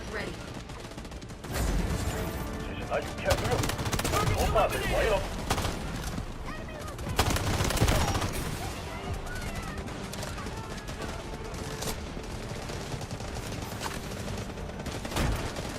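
Gunfire in the mobile shooter Delta Force Mobile: bursts of rapid automatic shots and scattered single cracks, loud and close, run through the whole stretch while players talk over the action.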